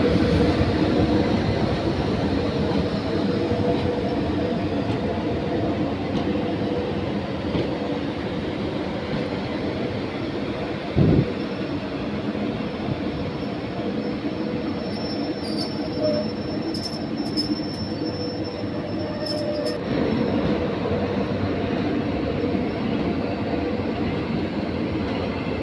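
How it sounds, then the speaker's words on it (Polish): A train of EN57 electric multiple units being transported rolls steadily past, a continuous rumble of rail wagons with metallic wheel squeals and a few sharp clanks, no voices. "Pociąg do Siedlec."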